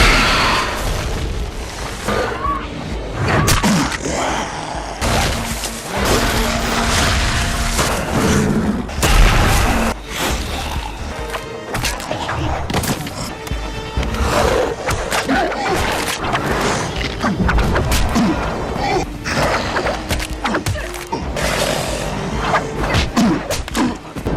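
A zombie film scene carries loud, dense gunfire and explosions, with repeated booming blasts and rapid shots overlapping throughout alongside occasional voices.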